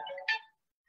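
A mobile phone ringtone chirps briefly and fairly close, a short melodic burst of under half a second that cuts off into silence, heard during a crafting product demonstration.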